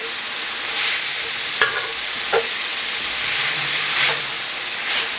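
Cheesesteak meat sizzles and hisses steadily in a hot pan, with a few sharp scrapes and clacks of a utensil as it is stirred and broken apart, close and alone.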